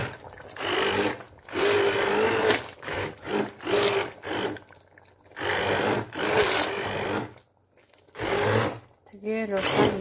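An immersion blender purees zucchini for homemade squash caviar, whirring loudly in repeated bursts of a few seconds each with short pauses between, close by, and a voice talks in places.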